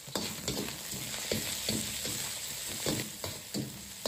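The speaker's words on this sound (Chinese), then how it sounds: "先下入五花肉煸炒，炒出多余的水分" Pork belly stir-frying in hot oil in a wok over medium-low heat, a steady dense sizzle broken by regular scraping strokes of the spatula, close and fairly loud with no talking.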